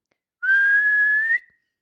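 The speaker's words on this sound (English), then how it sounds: "and he blew his whistle" A referee at a football match gives a single clean whistle blast, steady in pitch, lasting about one second against silence.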